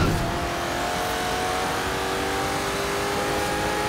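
A cheap, very light car accelerates in Forza Horizon 3, its engine droning loud and continuous with steady rising tones and no pauses.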